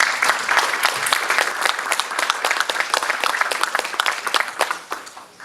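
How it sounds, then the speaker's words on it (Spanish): An audience at the Perú Mining Business 2018 event applauds speaker Jorge Chávez, with a crisp, moderately sized round of individual claps heard distinctly, tapering slightly near the end. "Un fuerte aplauso para Jorge Chávez."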